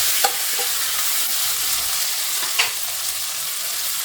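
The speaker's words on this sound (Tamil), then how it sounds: "இப்போ இந்த தக்காளியும் நல்லா வதங்கி வரட்டும்" Onions and tomatoes sauté in a pan, a steady bright sizzle with a couple of soft clinks of stirring, close and continuous with no talking.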